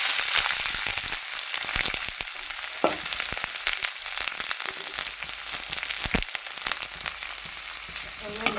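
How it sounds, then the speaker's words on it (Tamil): Garlic cloves and chopped banana flower frying in hot oil with onion and curry leaves, a steady close crackling sizzle with occasional sharper pops and stirring clicks, no voices. "எப்படி பொரியுது பார்த்திங்கன்னா உடனே நம்ம பூண்டு சேர்த்துக்கலாம்"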